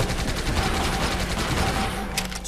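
Rapid, dense gunfire from the video game Elite Forces in survival mode, with a continuous barrage of overlapping shots loud and close throughout, and no talking.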